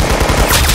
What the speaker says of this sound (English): Tommy gun.